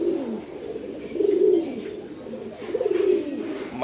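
An Afshan grazer racing pigeon coos close by in low, throaty rolling phrases repeated roughly every second and a half, with no speech.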